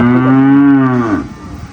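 A pregnant Friesian cow gives a single loud, drawn-out moo that holds steady and then trails off, heard close and alone.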